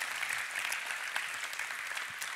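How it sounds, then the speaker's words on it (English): A church congregation claps in a quiet, continuous patter, a soft wash of applause with scattered individual claps standing out, no speech on top. "I think that deserves a clap"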